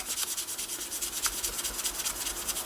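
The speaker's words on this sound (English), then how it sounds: "turn your sandpaper over so you're not sanding on a dirty spot" Sandpaper rubs back and forth over the wooden tip of a 1939 NuTone Model B two-note door chime, a close, quick, even rasping in regular strokes with no talk.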